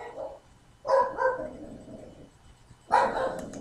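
A dog barks twice in the background, a short muffled bark followed by another after a pause, over faint room noise.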